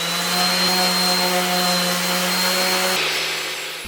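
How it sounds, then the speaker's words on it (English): An orbital sander sanding excess glue off a wooden frame joint, a loud continuous motor whir with a steady hum that shifts in tone near the end, with no speech. "I used my orbital sander to sand the excess glue of the joint."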